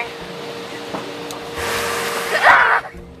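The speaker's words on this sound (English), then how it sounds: "So those are the dryers right there." Car wash dryers blow air onto a car, a broad whooshing roar that swells midway and peaks loudly before cutting off, heard from inside the vehicle.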